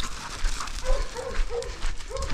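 Several dogs by a lake make short yips and whimpering barks in quick bursts over rustling, outdoor background noise, fairly close.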